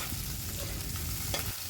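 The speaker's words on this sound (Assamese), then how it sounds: "এতিয়া মই প্ৰথমতে ভাজি আছোঁ পুঠি মাছখিনি পিঁয়াজৰ পাতেৰে চিম্পুলকৈ ভাজিম" Small puthi fish sizzle and fry in hot oil with spring onion leaves, a steady close crackling hiss with light stirring and no talk.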